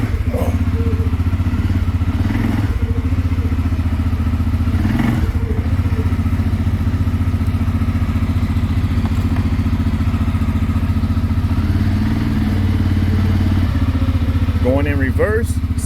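A CFMoto CForce 600 ATV engine runs steadily while driving in reverse, a loud continuous low drone with occasional thumps and clatter over rough ground, and a person talks over it.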